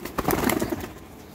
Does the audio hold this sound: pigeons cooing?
yes